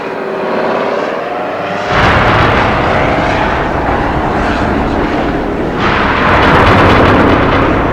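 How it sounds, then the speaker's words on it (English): Osprey hybrid tiltrotor US military aircraft flying past, a loud, steady engine and rotor roar that swells twice and holds strongly throughout, with no voices. "The latest threat is this hybrid plane, the Osprey, notorious for its safety issues."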